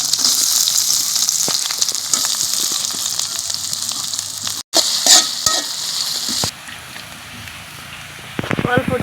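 Chopped garlic and onion hit hot oil in a wok, giving a loud steady sizzle with stirring scrapes that briefly cuts out, then continues more softly with clattering near the end.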